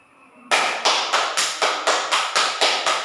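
Sharp, loud hand claps ring out one after another in a steady rhythm, about nine in all, each mimicking the swat of a mosquito, close and alone with no talk over them.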